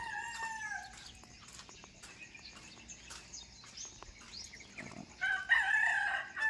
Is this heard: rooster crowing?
yes